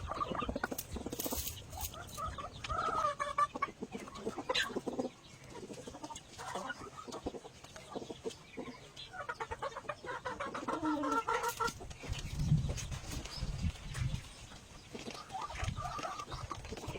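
Chickens cluck and squawk in short, irregular bursts while being chased and caught, with scuffling and patter of movement between calls, fairly close and moderately loud.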